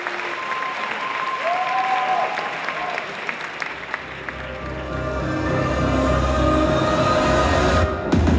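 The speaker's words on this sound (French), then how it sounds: "On l'applaudit bien fort, s'il vous plaît." An audience applauding at a cosplay event, clapping that swells from a dense patter into loud, sustained applause with crowd noise and some voices underneath.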